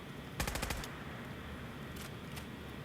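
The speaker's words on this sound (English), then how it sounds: "this is what it looks like when you fire the weapon" Automatic weapon in Fallout 4 firing a rapid burst of about eight shots in under half a second, followed by a couple of fainter sharp clicks or reload sounds over a steady low background hum.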